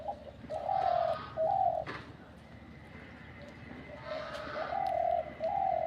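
A bird calls loudly and repeatedly in short bursts, clear and close, with long pauses between them over a steady outdoor background.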